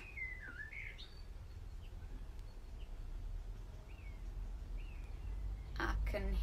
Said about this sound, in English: I can definitely hear birds.